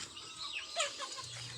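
Domestic chickens clucking at feeding time on a small backyard farm, a steady mix of soft clucks and short calls at moderate distance, no voices.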